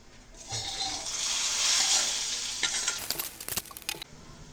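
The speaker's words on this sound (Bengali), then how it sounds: "এখন পেঁয়াজ রসুনের ফোড়নটা দিয়ে দেবো" Onion and garlic hit hot oil in a frying pan as a tempering for an egg and potato curry, swelling into a loud hiss, then a burst of sharp spatters and clatters.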